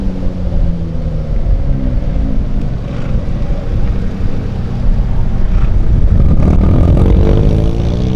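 A Volkswagen Brasília with a loud, controversial modified exhaust revs and rumbles steadily as it leaves an event, deep and close throughout, swelling louder near the end.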